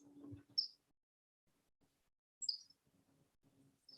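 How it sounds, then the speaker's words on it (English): Birds chirping outdoors, a few sharp high tweets in separate short bursts against quiet surroundings, with faint low murmuring between them. "sounds of the birds."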